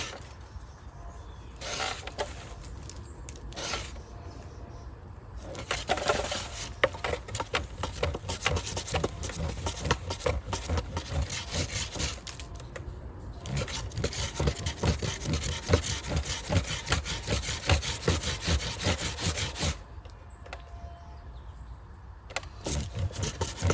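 Rough repeated rubbing and scraping as a roll of jute packed with wood ash is worked back and forth by hand on a fire table, coming in bursts with short pauses.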